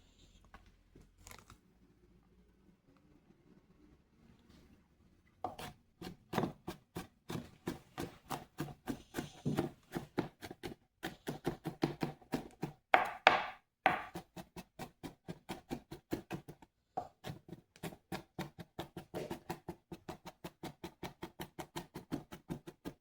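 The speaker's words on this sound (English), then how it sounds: "Obviously, we're cutting up garlic here." A knife chopping garlic on a cutting board: quiet at first, then a long run of quick, sharp, rhythmic taps with brief pauses, close by and without talk.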